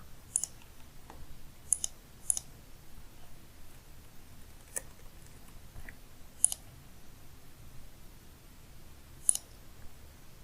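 A computer mouse clicks a handful of times while someone works in project management software, giving sharp, isolated clicks spaced seconds apart over a quiet background.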